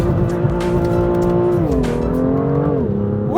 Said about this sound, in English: Should we do another drift?